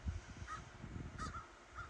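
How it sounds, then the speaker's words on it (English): Crows cawing outdoors on a frigid day, a few harsh calls at moderate distance over a low rumbling background, with no voices. "The crows think I'm dead."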